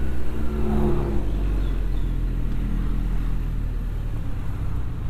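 A Honda CB1100F motorcycle engine revs in the open air, a smooth, deep, steady rumble with a slight rise early on, heard close with no talk over it.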